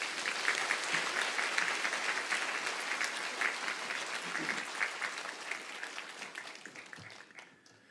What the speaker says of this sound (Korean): 우리 박수로 맞아주세요.